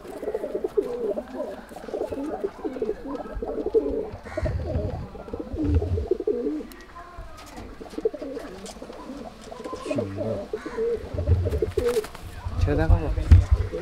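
A beater pigeon with a clipped tail coos in low, repeated throaty phrases close by, broken by quieter pauses, while people talk nearby.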